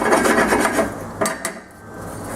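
Sugar and pecans stirred constantly in a saucepan, a gritty scraping and rasping of the spoon against the pan, loud and close, with a couple of sharper scrapes near the end.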